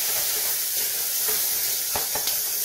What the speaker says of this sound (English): Have to keep stirring it because you don't want to burn out the onions.